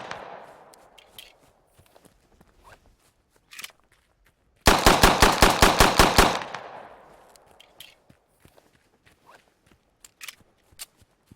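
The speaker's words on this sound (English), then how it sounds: "And we have the Makarov pistol." A Makarov pistol fires in the video game Squad: a rapid burst of about ten sharp, loud shots in under two seconds, set among scattered footsteps and small shuffling sounds before and after.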